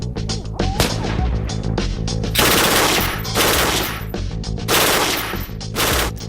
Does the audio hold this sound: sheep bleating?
no